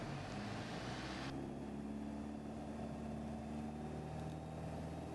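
Light aircraft engine at full power in the airport traffic pattern, a steady loud drone with layered harmonic tones, a broadband roar that drops slightly after a second, continuous throughout.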